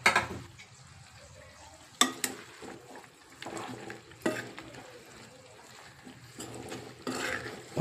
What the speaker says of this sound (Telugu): ఇప్పుడు నేను దోసకాయ వేస్తున్నాను